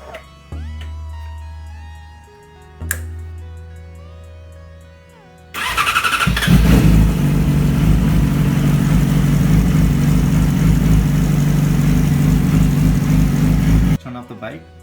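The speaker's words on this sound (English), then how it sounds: "So let's go ahead and turn on the bike." A Yamaha R6 sport motorcycle cranks briefly, then fires up and settles into a loud, steady idle close by, with a faint hum and a single click before the start.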